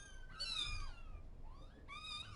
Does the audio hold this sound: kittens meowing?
yes